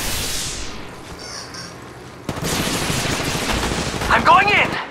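Apex Legends Mobile gunfire: sustained rapid machine-gun bursts break out mid-clip after a quieter lead-in, loud and continuous with sharp shrill effects near the end.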